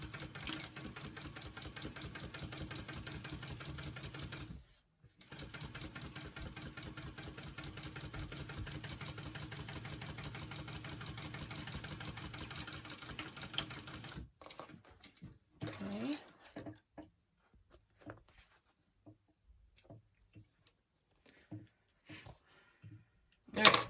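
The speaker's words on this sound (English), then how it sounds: "we're going to top stitch along that and close that up" A sewing machine runs in a long continuous burst of rapid stitching while a tote bag gets top stitched, pauses briefly, then resumes before giving way to quiet handling clicks and rustles near the end.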